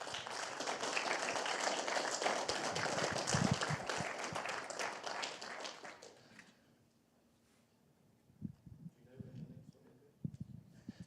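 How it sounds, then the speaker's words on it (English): An audience at a studio event applauds those who organized the day, steady clapping for about six seconds that then dies away into quiet, with a few thumps and a voice afterward. "Can we give a round of applause for everyone that worked on this?"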